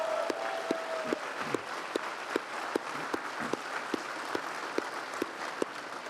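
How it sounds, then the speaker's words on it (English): Sustained applause from a large audience at a Western heritage awards ceremony, dense steady clapping with scattered louder claps, continuing at an even level throughout with no talk. "Let's give them another big round of applause"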